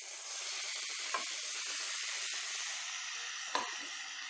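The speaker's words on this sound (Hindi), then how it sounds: "तेल गरम हो चुका है, इसमें हमें चिकन डाल देते हैं।" Chicken pieces hitting a tablespoon of hot oil in a pan over high flame, a steady loud sizzle with crackling pops and two sharper spits, continuous and close with no talk.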